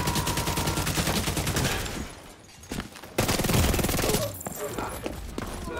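Rapid gunfire crackles in the video game Tom Clancy's The Division 2, dense bursts of automatic shots that pause briefly and then resume, with a voice talking excitedly over them.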